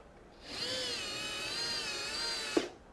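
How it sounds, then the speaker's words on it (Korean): Motorized mechanism of a remote-controlled 1/6 scale figure display case, a whining motor running steadily for about two seconds before stopping with a small clunk, close but fairly quiet. "뭔가 기계가 이렇게 움직이는 소리가 나네요?"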